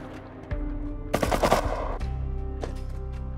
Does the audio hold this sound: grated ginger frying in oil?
no